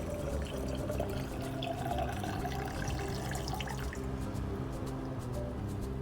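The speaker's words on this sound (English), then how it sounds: "I'm adding the remaining distilled water" Distilled water pours steadily into a beaker of perfume base, a continuous liquid trickle with faint dripping, heard alone for several seconds at a moderate, even level.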